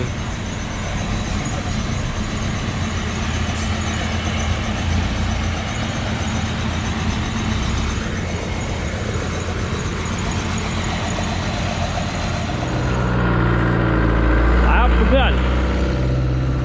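A vehicle engine drones steadily and fairly loud as the vehicle moves beside a rice field near a large irrigation canal, its rumble swelling near the end.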